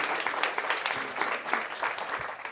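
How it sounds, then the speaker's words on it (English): An audience at a live comedy festival show claps steadily throughout, a dense wash of applause with no voices rising above it. "So give these two a round of applause."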